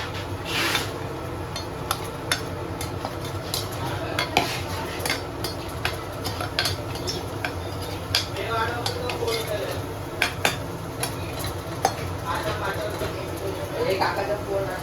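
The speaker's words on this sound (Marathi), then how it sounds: "ये इसको ऐसा पकड़ने का मस्त इसका गोल गोल फिरवायचा, मिक्स करायचा" A utensil stirs food round and round in a pan, making repeated scraping and clinking strokes at a steady rhythm beneath a person talking and a constant high-pitched background whine.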